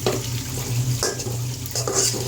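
Chopped onions with green chilies stirred while frying in a pan, a steady sizzle with a couple of utensil scrapes against the pan, close and moderately loud, with no talk.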